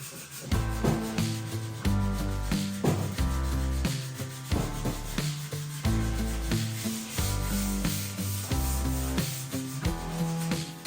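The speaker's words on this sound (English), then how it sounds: "So I'm gonna give it a good sand" Dried epoxy is sanded by hand in steady back-and-forth strokes, each a close, rough scratching pass repeating in a regular rhythm with no voices.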